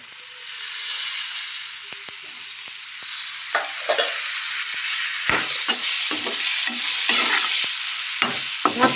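Chopped tomato frying in a pan gives a continuous loud sizzle, joined partway through by a series of clinking, scraping stirring strokes close by.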